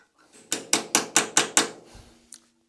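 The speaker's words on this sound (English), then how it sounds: "I've got this so snug that it needs tapped through" Six quick, sharp metallic clicks in an even rhythm come from a tap being worked through the thread of an overflow pipe fitting on a 1927 BSA motorcycle engine. A faint knock and a light tick follow.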